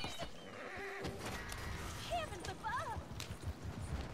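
A horse in Red Dead Redemption 2 neighs with a high, wavering whinny, twice, over hoofbeats and a voice talking.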